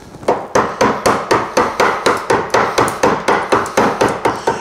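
A wood chisel struck repeatedly with a mallet while cutting a butt hinge mortise, about fifteen sharp, evenly spaced taps in a steady rhythm, close and loud with nothing else heard.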